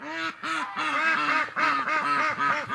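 Ducks quack repeatedly outside on a winter farm, in rapid, overlapping bursts, loud and close, forming a continuous noisy chorus with no talking.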